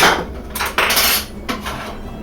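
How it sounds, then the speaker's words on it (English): Sliced carrots dropped into a frying pan with a little olive oil, giving a few bright clattering, sizzling bursts of vegetables hitting hot metal, close and fairly loud with no talking. "So we're adding the carrots to the olive oil on the frying pan."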